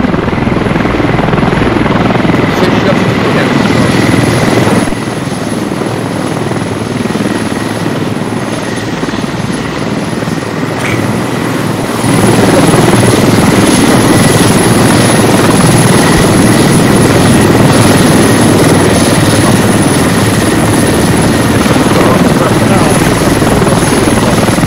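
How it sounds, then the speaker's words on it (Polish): Military helicopters landing in the video game Squad, a loud continuous rotor thrum and engine whine that swells midway and holds steady, close and dominant with no speech on top. "tam ładnie te helikoptery lądują"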